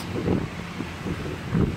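Gusty wind buffets a microphone, a loud low rumble that swells and fades in uneven pulses with no other sound.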